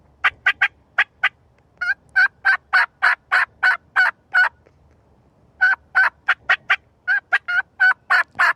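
A person imitates a turkey hen's fly-down cackle using only hands and mouth, producing a long series of sharp, rapid clucking notes in irregular bursts, loud and close with no talking.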